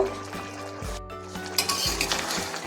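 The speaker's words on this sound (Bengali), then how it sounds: "কিছু সময় নেড়ে নিতে হবে" A spoon stirs mushroom curry with spice paste in a cooking pan over heat, scraping and clinking against the metal with a faint sizzle underneath, close and steady, no voices.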